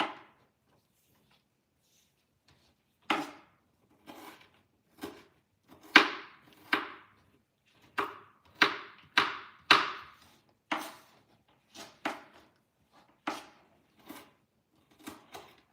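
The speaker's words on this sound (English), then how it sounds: "cutting this onion up very fine to go in my tuna salad because I like onions" A knife chops a yellow onion very finely on a cutting board for tuna salad, giving a series of crisp, close, irregular taps with short pauses between bursts.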